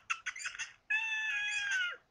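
A cartoonish cat in the video game Catz 4 gives a few short chirping mews, then one long, clear, high meow, close and fairly soft.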